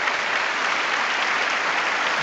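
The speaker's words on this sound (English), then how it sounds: "Don't clap for that." State of the Union audience breaks into applause, a steady dense wash of many hands clapping at even loudness throughout, with no voices over it.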